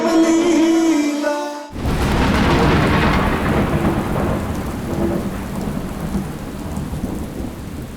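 Heavy rain and thunder in a TV drama scene: a sharp, loud thunderclap cuts off music, then a rolling rumble fades under a steady downpour pounding surfaces nearby.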